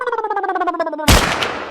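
A gun fires a single loud, sharp blast partway through, with a crackling tail. Just before it, a sustained tonal sound rises and falls in a steady pulsing rhythm.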